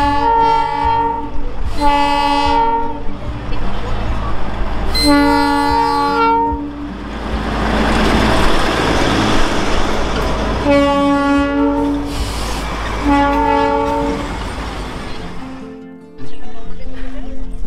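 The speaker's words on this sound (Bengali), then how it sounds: "এই টয় ট্রেনটা যখন ঢোকে কত সুন্দর লাগে দেখো।" The Darjeeling toy train arrives, sounding loud, repeated horn blasts over a rumbling, clattering engine and cars. Several long honks alternate with stretches of rolling noise, and voices can be heard faintly in the background.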